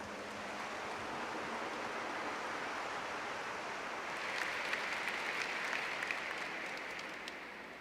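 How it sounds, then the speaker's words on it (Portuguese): A church congregation applauding, a dense, even wash of clapping that holds steady throughout and swells slightly toward the end. "Vamos aplaudir essa palavra."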